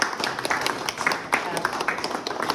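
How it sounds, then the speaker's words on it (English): Members of an astronomy society applaud at the close of an evening meeting with a short burst of moderately loud, somewhat sparse clapping, with speech mixed in. "let's have a round of applause"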